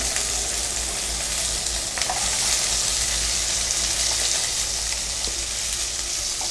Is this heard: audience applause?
no